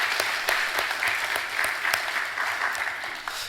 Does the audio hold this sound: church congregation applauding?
yes